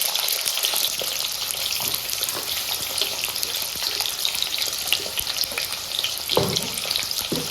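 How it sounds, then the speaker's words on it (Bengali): New potatoes frying with turmeric in hot oil, giving a continuous close, dense sizzle and crackle with occasional stirring scrapes. "শুধু হলুদ দিয়ে ভাজবো সব প্রথমে তার আলুগুলো ভেজে নিই"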